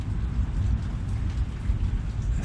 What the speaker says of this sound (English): I still hear thunder rumbling around there